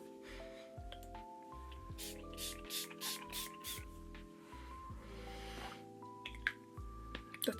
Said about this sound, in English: I don't quite like the spray on this.